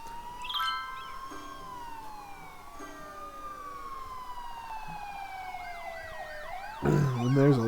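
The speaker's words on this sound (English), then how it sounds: "Now, I thought I heard sirens in the distance." Wailing emergency sirens in a video game town, several overlapping tones sweeping up and down at mid distance, with a yelping siren pattern near the end and a burst of louder street noise.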